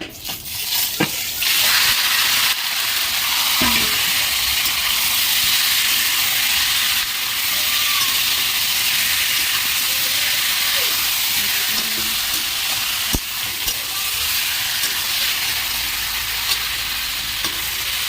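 Marinated country chicken going into a hot pan with whole garam masala, a loud steady sizzle and hiss lasting throughout, with occasional sharp clatters of utensils.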